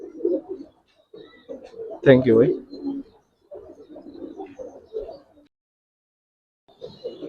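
A pair of male and female pigeons cooing in short soft bursts with a louder coo in the middle, close by, with someone speaking briefly at the start and between calls.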